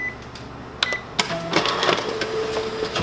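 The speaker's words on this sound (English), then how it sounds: "let's go ahead and staple this bad boy too" Konica Bizhub C3850FS color copier running a full-color copy job with corner stapling: whirring mechanical feed, beeps and a couple of sharp clunks, then steady machine motion, heard up close.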